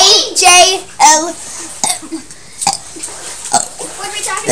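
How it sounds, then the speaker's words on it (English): A child burps the alphabet, with a few short, loud burps spaced out and mixed with giggling and talk from the child and others nearby. "He's gonna burp his ABCs."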